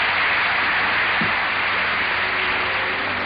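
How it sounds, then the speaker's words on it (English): Sustained applause from an assembly audience after Mr. Johnson's address at the United Nations' 20th anniversary in 1965, a dense, steady wash of many hands clapping at even loudness throughout, with no voices. "The applause Mr. Johnson's talk receives is but an echo of the hope."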